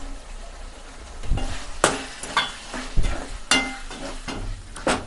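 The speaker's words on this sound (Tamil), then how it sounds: "இப்போ இதை நல்லா வதக்கி விட்ருவோம்" Spoon stirs and scrapes through mutton and ground masala in a hot pan, a soft sizzle underneath with several distinct knocks and scrapes at irregular intervals, close and moderately loud.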